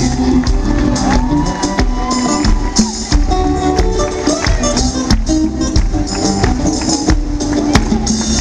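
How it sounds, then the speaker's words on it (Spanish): A festival crowd at Cosquín roars for guitarist Marcos Villalba, loud dense applause mixed with shouts and whoops over sustained music, continuous throughout. "En guitarra, un fuerte aplauso para el señor Marcos Villalba."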